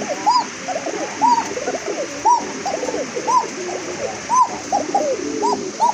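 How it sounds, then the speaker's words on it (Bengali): Bashiraj Koka pigeons coo repeatedly at a market, soft rolling calls that recur every second or so, close by over a steady background hiss. "দেখেন কবুতরের কোয়ালিটি দেখেন, ডাক দেখেন"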